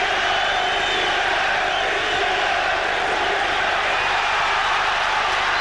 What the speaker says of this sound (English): The crowd trying to lift McDonnell.